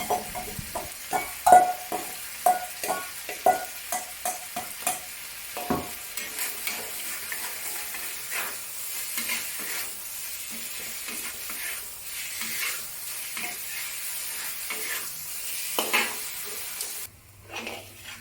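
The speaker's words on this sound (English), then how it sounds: "Continue to stir fry the pork until cooked on both sides and start to turn slight golden." Pork stir-fried in a wok for a Cantonese ginger and spring onion dish, steady close sizzling with a burst of rapid spatula clacks at first, then continuous tossing and scraping.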